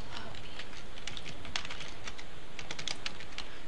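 Rapid typing on a computer keyboard during a Minecraft co-op game session, a close, steady run of light key clicks with irregular bursts and no talking.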